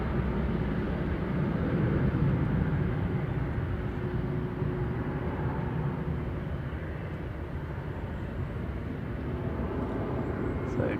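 An EasyJet Airbus A320 Classic, registration G-EZTR, bound for Amsterdam at Manchester Airport, gives off a steady broad jet-engine roar that holds at constant loudness throughout, with a faint voice underneath.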